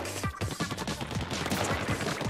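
Rapid bursts of gunfire in Splatoon 2 crackle in quick succession, loud and close, with repeated shots overlapping in a busy firefight.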